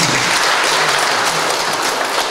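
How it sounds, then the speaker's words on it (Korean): Applause at a members' art exhibition opening, a short burst of dense, uniform clapping from a gathered crowd indoors, loud and continuous throughout. "박수 한번 쳐주십시오"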